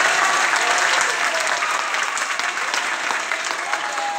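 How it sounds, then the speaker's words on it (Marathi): Studio audience at a radio event clapping for Engineers' Day, a strong continuous round of applause that holds steady and loud from start to finish. "सो टाळ्या जोरदार व्हायला पाहिजे"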